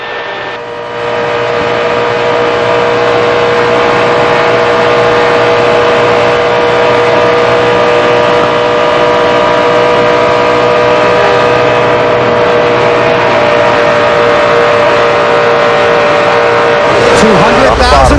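NASCAR stock cars roar around Daytona International Speedway during the 2004 Daytona 500, a loud continuous engine drone with sustained high-pitched whine, close and unbroken, with race commentary audible over the top.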